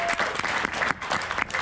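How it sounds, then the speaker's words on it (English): Crowd applause at a medieval faire gathering, a short burst of steady clapping from many hands, moderately loud and continuous. "Give them a very big round of applause."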